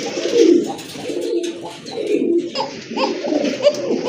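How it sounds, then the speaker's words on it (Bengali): A pair of red Lahori pigeons coo in soft, rolling repeated calls, close and clear against a quiet background. "মাশাল্লাহ দেখেন এক জোড়া লাহোরি কবুতর টকটকে লাল"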